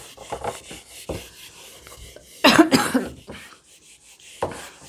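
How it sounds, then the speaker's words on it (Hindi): A burst of harsh coughing stands out in the middle, loud and close, among quieter rustling and breathy sounds. "सॉरी खांसी आ रही है पता नहीं क्यों बार बार।"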